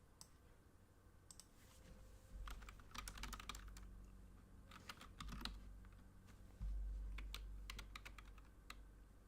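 Someone types on a computer keyboard at a desk, quick bursts of faint clicking keystrokes separated by short pauses, with low hum and thumps in the background.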